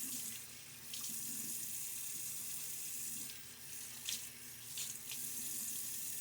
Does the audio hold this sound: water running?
yes